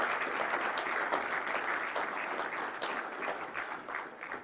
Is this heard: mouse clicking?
no